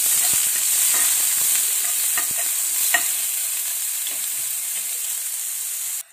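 Onions fry in desi ghee in a pan with a loud, close, hissing sizzle and irregular stirring clicks and scrapes, fading abruptly at the end.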